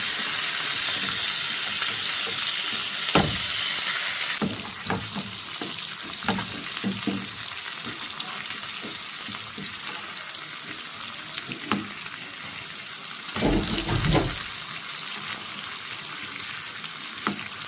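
Fifty grams of butter melting in a hot pan for a steak pepper sauce, a steady sizzle with occasional stirring clinks and scrapes, moderately faint and close, with no speech.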